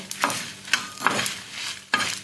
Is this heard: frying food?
yes